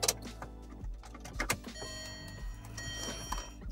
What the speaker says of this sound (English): we're gonna turn the ignition to on.